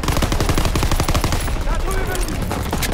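Rapid SMG bursts in Call of Duty WWII ring out loud and close, a dense rattling stream of gunfire that runs almost nonstop, with game effects layered underneath.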